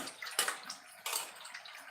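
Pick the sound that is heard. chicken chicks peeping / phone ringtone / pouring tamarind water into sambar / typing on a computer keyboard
pouring tamarind water into sambar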